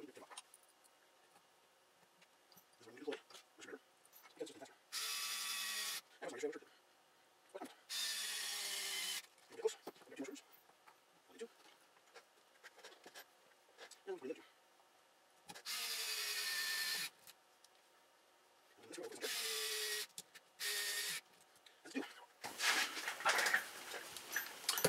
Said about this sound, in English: you use those electric screwdrivers